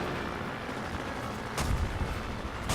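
Aircraft guns firing in the World of Warplanes air-combat game, a continuous rumbling rattle of distant fire with a couple of sharper bursts cutting through.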